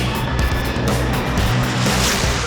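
A drag car with a blown big-block Chevy engine does a half-track tire burnout at Pinks All Out Indy, producing a loud, continuous roar of engine and spinning tires that stays dense and unbroken throughout.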